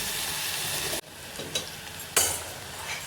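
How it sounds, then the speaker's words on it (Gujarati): Kadhi mixture stirred in hot oil, a steady sizzle broken by an abrupt pause and then scraping spoon strokes and renewed frying, close and fairly quiet. "આ રીતે હલાવી નાખશું કઢી તેલમાં આપણે કઢી ચડવા દઈશું"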